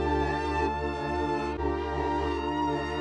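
A dark melody made in FL Studio, reversed and given a halftime slowed-down effect, plays as a thick, sustained, droning musical texture with a steady loudness and no talking.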